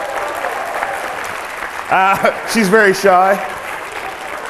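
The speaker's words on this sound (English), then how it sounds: "Give her a round of applause, everybody." Steady applause from a crowd fills the whole stretch, with someone briefly speaking over the clapping partway through.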